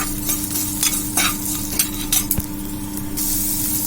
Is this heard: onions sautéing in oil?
yes